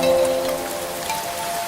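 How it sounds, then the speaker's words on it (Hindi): Steady rain falls outside a village house in the rainy season, a continuous even hiss of drops on surfaces, close and moderately loud, with no voices. "देखो बाहर बारिश हो रही है।"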